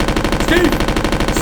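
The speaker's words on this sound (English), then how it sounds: "Steve, you don't have to shoot anymore, Steve!" Rapid automatic gunfire in the Resident Evil video game, a loud continuous rattle of evenly spaced shots, with a voice cry briefly audible in the middle.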